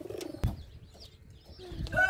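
Soft, low pigeon coos close by, a few brief murmuring calls with scattered small knocks and rustles in between.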